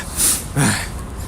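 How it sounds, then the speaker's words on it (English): Someone blows their nose nearby in two quick, breathy bursts, the second slightly heavier, followed by quiet room noise. "Let me blow my nose."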